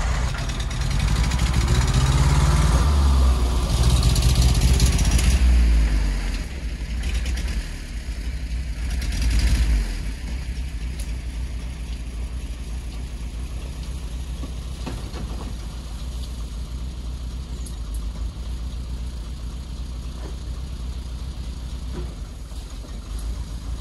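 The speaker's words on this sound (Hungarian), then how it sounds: "Valószínűleg azért prüszköl, mert az ejtőtankról azért kicsit kevesebbet kap, mint a saját üzemanyag pumpájából" A Robur truck engine fed from a drop tank sputters, running loud and throaty for the first few seconds, then dropping to a steadier, uneven idle with occasional surges.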